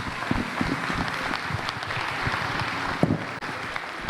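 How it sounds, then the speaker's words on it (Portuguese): Church congregation at a thanksgiving service clapping to welcome the pastor, a moderately loud, uneven stretch of applause with a few sharper claps standing out. "receba ele com uma linda salva de palmas para Jesus"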